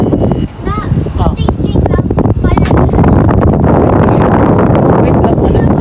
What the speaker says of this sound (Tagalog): testingin natin sa malakas na hangin